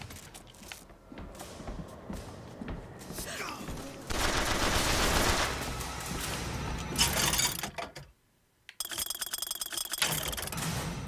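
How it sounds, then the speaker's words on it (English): An automated gun turret in Bioshock Infinite fires rapid, rattling bursts of gunfire, with mechanical clanks between volleys, a brief silent gap, then another loud burst. "where the fuck's that turret I'm hearing?"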